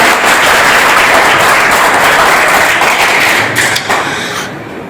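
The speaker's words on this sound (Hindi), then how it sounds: "ताली जरूर बजाएं" Dense, loud applause from an audience at a Hindi poetry gathering, steady clapping that fills the room and then tapers off near the end.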